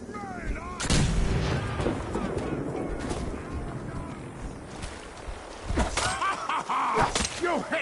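A frag mine detonating in Fallout 4, a heavy close blast followed by rumbling combat noise and a second burst of impacts near the end, with no talking.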